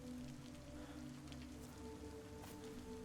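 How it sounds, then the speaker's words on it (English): Steady rain falling in the DayZ video game, a continuous soft patter of drops on surfaces under a low ambient hum, with no voices. "especially since it's raining"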